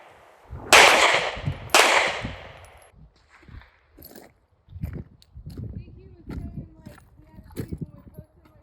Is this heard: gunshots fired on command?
yes